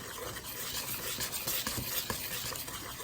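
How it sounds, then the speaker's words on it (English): Biscuit dough mixture being stirred in a bowl, a soft steady scraping and swishing that runs without pause, fairly quiet and close. "Then you mix it to combine it."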